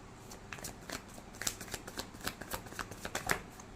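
Tarot cards are shuffled by hand in quick, crisp riffling bursts, a close and fairly quiet run of papery flicks and snaps with no talking.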